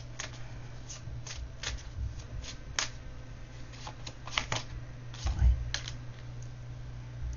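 Tarot cards being shuffled and drawn make a series of soft, crisp slaps and flicks at an irregular pace, with a low steady hum behind them.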